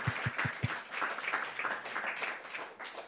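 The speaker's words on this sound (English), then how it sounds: "I think we can make a round of applause for that" An audience at a climate scholars workshop with EPFL and UNIL alumni breaks into a steady round of applause, a few heavy thumps at the start giving way to dense, even clapping that carries on throughout.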